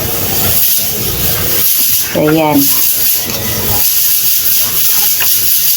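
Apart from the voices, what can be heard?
pressure cooker hissing steam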